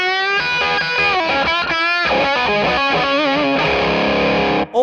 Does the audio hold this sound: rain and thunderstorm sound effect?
no